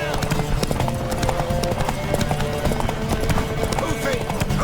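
Horse hooves clip-clop in a steady rapid rhythm in the Witcher 3 game world, close and loud, running throughout beneath game music and other sounds.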